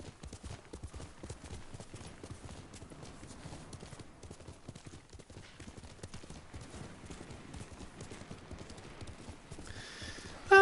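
Steady clip-clop of horse hooves trotting at a regular rhythm in the video game Ghost of Tsushima, moderately close, with a brief louder burst at the very end.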